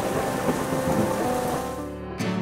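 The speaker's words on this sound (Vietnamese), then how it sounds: "Trời lúc này đột ngột tối om và sấm chớp." Heavy rain pours steadily in a thunderstorm, with a deep rumble of thunder rolling beneath the constant hiss of the downpour, heard close and loud without any voices.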